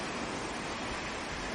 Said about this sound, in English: That whining sound you can hear is the water maker running.